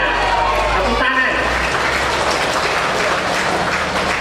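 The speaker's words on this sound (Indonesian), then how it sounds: "Ya, tepuk tangan" Crowd applause at an outdoor campaign meeting with local residents in Wala, loud continuous clapping under a low rumbling hum, with a voice briefly heard near the start.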